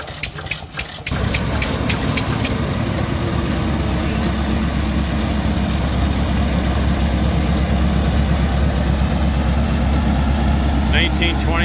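An old gas engine runs at a display at a Red Power show, a loud, steady low chugging that continues throughout after a brief rustle at the start.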